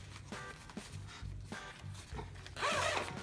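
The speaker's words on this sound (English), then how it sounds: "Zip it up, and then I hang this at night up in the tree" A Granite Gear 12-liter zip sack used as a waterproof food bag is zipped shut with a short rubbing pull and then a longer, louder zipping run at the end, close and alone.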